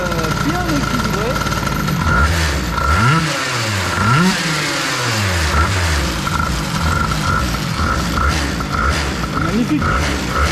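A Peugeot 103 hybrid air-cooled moped with a Stage6 Mk2 Sport engine revs up and down in loud, close, repeated sweeping surges, with a buzzy idle between revs and a voice talking over it.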